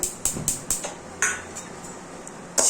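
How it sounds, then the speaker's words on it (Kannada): Green gram (moong) dry-roasts in a pan without oil, stirred with a metal utensil that gives a series of sharp clinks and scrapes against the pan, close and fairly loud. "ಇವಾಗ ಹೆಸರು ಕಾಳು ಹುರ್ಕೊಂತಿದ್ದೀನಿ ಹೆಸರು ಕಾಳಿಗೆ ಎಣ್ಣೆ ಹಾಕೋದು ಬೇಡ ಹಂಗೆ ಹುರ್ಕೋಬೇಕು"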